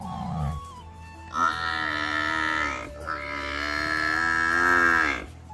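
Cattle moo loudly nearby: two long, drawn-out lowing calls, one after the other with a short pause between.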